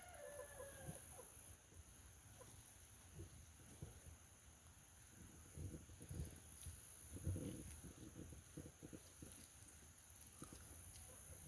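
Backyard chickens cluck softly and intermittently across the stretch, a faint, close flock murmur with scattered louder clucks and no voices.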